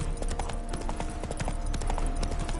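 Horse hooves clip-clop in a steady walking rhythm in The Witcher 3 video game, mixed over a dense background of game ambience and music, with a rider's horse nearby.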